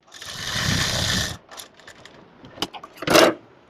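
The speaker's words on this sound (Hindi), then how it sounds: "आप पहले एक साइड से इस पर सिलाई लगा दें" Sewing machine stitching along one side of elastic inserted into a palazzo waistband, a steady motorized whirr for about a second and a half, then scattered clicks, fabric handling and a short final burst of stitching.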